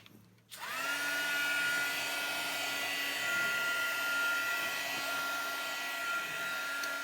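A heat tool switches on abruptly and blows a steady, loud whirring hiss to dry a freshly stamped illustration, running continuously close by.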